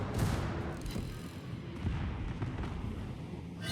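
Heavy naval guns from a British battleship, the Iron Duke, fire high-explosive shells in a naval combat video game, producing deep rumbling booms and sustained low roar with a fresh blast near the end.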